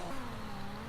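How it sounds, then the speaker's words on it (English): Race car in Project Cars 2 on the Melbourne hairpin at a simulated circuit, engine note falling under braking then rising as power comes back on, a steady mid-pitched whine heard alone at moderate level. "Jake's hard on the brakes into the Melbourne hairpin"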